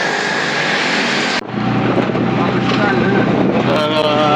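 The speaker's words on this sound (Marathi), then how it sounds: "खूप दिवसांनी रिक्षात बसून चाललो आहे" Continuous engine drone and road rumble from inside a moving auto rickshaw, with wind noise; a brief cut early on, then steady loud hum.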